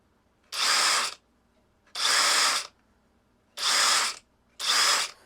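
Cordless impact wrench running in four separate bursts, each under a second long, with short silent gaps between them, loud and close with no voices.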